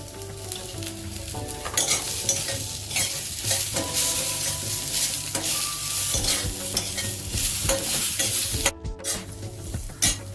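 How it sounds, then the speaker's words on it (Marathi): Onion and garlic sizzle in a pan as a spoon stirs and scrapes repeatedly, with irregular metallic clinks over the continuous close frying; no talking. "कांदा भाजून झालेला आहे"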